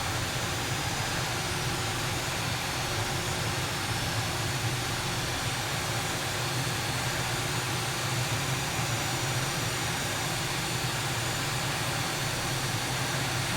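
A-10C Thunderbolt II jet engines in Microsoft Flight Simulator drone in a steady, dense roar with a constant whine, holding evenly loud throughout with no voices.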